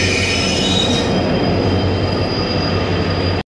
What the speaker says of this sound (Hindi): देख लो कैसी होती है इंडियन रेलवे जब लेट होके आती है शक्ल